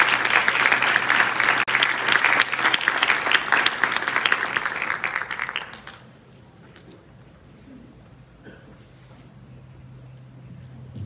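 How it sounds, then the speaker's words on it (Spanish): A hall full of people claps loudly at a nursing capping ceremony for about six seconds. The applause then cuts off abruptly, leaving quiet room tone with faint rustles. "Un fuerte aplauso para Yidolmari"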